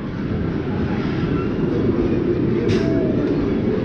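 Busch Gardens park train on a cold day, producing a steady low rumble of rolling rail cars, constant in level across the short stretch.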